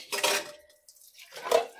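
Plates, bowls and pots clatter in two short, close bursts as dishes are handled during a thorough home kitchen cleanup.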